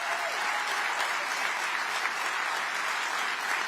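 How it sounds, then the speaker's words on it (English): Sustained applause from a live audience at a conservative political gathering, steady and dense throughout with no break or rise, the clapping filling the room evenly from start to finish. "deserves a round of applause."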